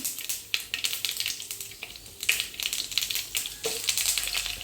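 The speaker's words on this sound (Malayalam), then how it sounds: "പാന് അടുപ്പത്ത് വെച്ച് ചൂടായതിന് ശേഷം രണ്ട് സ്പൂണ് വെളിച്ചെണ്ണ ഒഴിച്ചിട്ടുണ്ട് ഇതിലേക്ക് കടുകും അതുപോലെ തന്നെ ഉലുവയും ഇട്ട് കൊടുക്കാം" Mustard seeds and fenugreek sizzling in hot coconut oil in a pan for sambar, with crackly bursts and popping spits over a close frying hiss.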